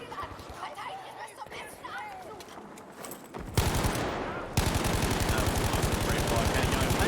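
Gunshots in a competitive shooter video game match, first scattered shots under an excited commentator, then dense rapid automatic fire that keeps going at full loudness as the commentator talks over it.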